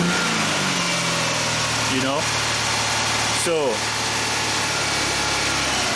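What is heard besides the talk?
Hyundai Sonata engine revving to higher RPM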